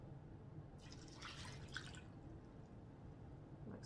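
Water trickles into a measuring cup to the one-cup mark while cooking forgotten chicken, a soft close pour lasting a couple of seconds with a few faint drips after.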